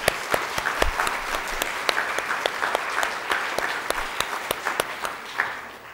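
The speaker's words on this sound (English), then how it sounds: "Can we give her a round of applause?" A conference audience gives sustained applause, dense and steady clapping from many hands filling the room, with a few sharper individual claps standing out throughout.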